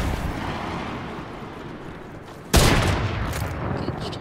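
Fortnite gunfire arriving as a sudden loud burst of shots partway through, cutting sharply above a rumbling game background of gear and movement noise.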